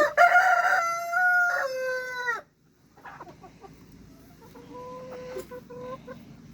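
A rooster crows loudly nearby, a long strained call that cuts off sharply, followed by softer clucking and short calls from chickens in a garden run.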